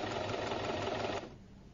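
A sewing machine stitches a bottom seam on denim, a fast, even mechanical whirr that runs steadily for about a second before stopping, leaving a faint hum.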